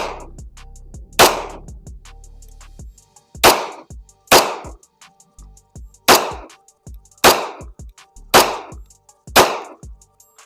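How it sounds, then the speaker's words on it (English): Seven sharp, loud pistol shots from a Springfield 1911 A1 in .45 ACP fired at targets on a cold range, spaced about a second apart with brief gaps between, no talking. "45 ACP out of the Springfield 1911 A1"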